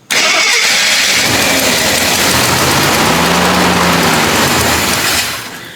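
An old Jeep engine that sat unused for 25 years cranks and catches as fuel is squirted in by hand, then runs loud and steady with a rough mid-pitched roar for about five seconds before fading slightly.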